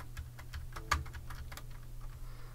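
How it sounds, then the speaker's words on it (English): Typing on a cheap light-up computer keyboard whose shift key sticks and clacks louder than the others: a run of soft close key taps with one sharp, louder click standing out near the start, over a low steady hum. "you can tell when my shift key gets stuck because it makes, like, it's a lot louder than my other keys"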